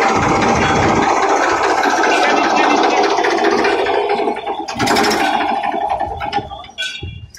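A Massey Ferguson 245 DI tractor engine runs in good condition, a loud, steady diesel drone with rough vibration throughout, while people talk nearby and the sound eases slightly near the end.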